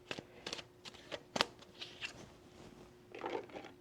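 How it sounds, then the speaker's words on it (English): Tarot cards shuffled hard by hand, giving a series of crisp, papery riffles and snaps, quiet and close, with a longer burst of riffling near the end and no talk. "I shuffle the heck out of these cards"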